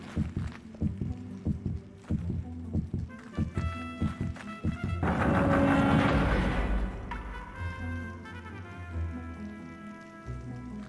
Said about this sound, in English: Why is this heartbeat?